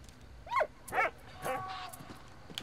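A dog in Valiant Hearts gives three short yipping barks, spaced about half a second apart, followed by a faint whine, fairly quiet with little else around it.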